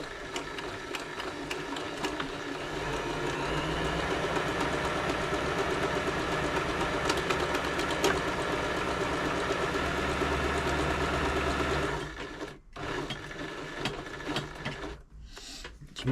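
An Elna 3007 sewing machine stitches a buttonhole with a loud, continuous mechanical whir for about twelve seconds before stopping, followed by lighter clicks and handling noise.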